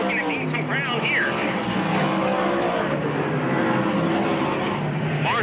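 Modified race cars roaring around the Lebanon Valley oval, a continuous loud engine drone with passing cars rising and falling, under steady commentary from an announcer.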